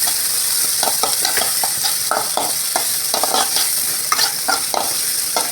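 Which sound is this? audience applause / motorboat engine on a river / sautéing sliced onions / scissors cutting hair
sautéing sliced onions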